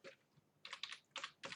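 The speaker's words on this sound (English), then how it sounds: "Delete on keyboard." Quick keystrokes on a computer keyboard during graphics editing work, a few soft clicks in short bursts, close and quiet, with no talking.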